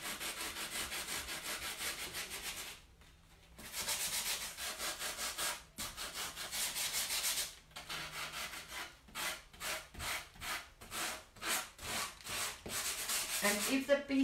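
Rough rhythmic sanding, steady at first then breaking into short repeated strokes with brief pauses, close and fairly quiet.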